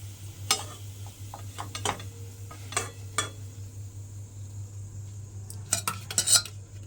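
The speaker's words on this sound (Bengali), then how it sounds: "ওই তেলের মধ্যে একটা একটা করে কোপ্তা দিয়ে এইভাবে সমস্ত কোপ্তাগুলো আগে ভেজে নেব" Snake gourd koftas fry in hot oil as a soft sizzle under scattered clinks and scrapes of a utensil against the pan, with no one talking.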